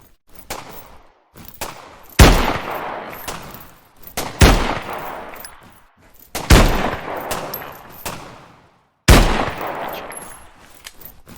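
Sharp, loud gunshots ring out in a video game shootout with snipers, arriving in bursts roughly every two seconds, each crack trailing into a decaying echo, with no voices.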